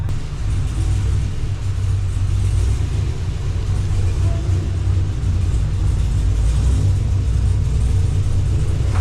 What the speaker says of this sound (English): So let's get this hot rod in the shop here and start this teardown.